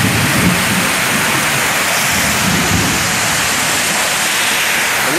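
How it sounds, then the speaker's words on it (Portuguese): Loud, constant rushing of a waterfall pouring down, a dense broadband roar close by with no voices. "A cachoeira."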